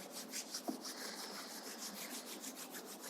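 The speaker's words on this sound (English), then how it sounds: "rub your palms" Palms rubbed together at the close of an evening yoga session, a soft, dry, steady swishing friction, close and quiet, continuing for a few seconds without talk.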